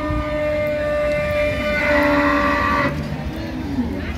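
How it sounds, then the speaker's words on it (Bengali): Cow and calf mooing at a busy rural cattle market, a long drawn-out low moo that shifts pitch midway, set against constant crowd murmur and chatter nearby. "গাভী বাছুর"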